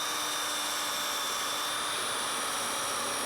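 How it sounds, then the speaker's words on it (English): A power drill bores a hole through a car hood to fit hood pin studs, a continuous high whining grind held steadily for a few seconds, close and alone without talk. "I'm going to drill a little bigger hole in the hood"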